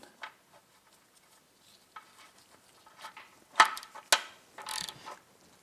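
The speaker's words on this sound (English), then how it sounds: "Now we're going to take our drain bolt and our new crush washer, put it in place, thread it back in." A ratchet threads the drain bolt with a new crush washer back into a Mercury 115 outboard during an oil change, heard as faint scattered metallic clicks and short ratcheting bursts, growing busier toward the end.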